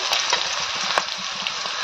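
Garlic paste hits a pan of already fried onion and sizzles loudly up close, a dense steady crackle with a few sharper spits and stirring scrapes.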